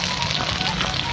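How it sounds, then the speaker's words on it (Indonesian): Salted fish frying in hot oil, cooked until half done, gives a steady dense sizzle and crackle that runs unbroken and close, with no pauses. "Digoreng setengah matang."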